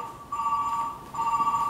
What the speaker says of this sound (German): Oh, das andere Telefon klingelt auch mir.